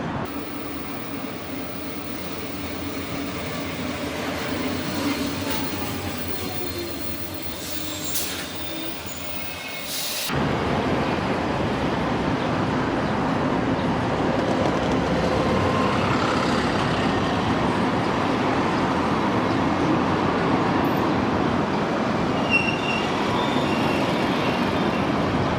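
Bilbao tram rumbles along the rails with a steady mechanical drone, a brief high squeal or brake hiss early on, then a louder, continuous running roar.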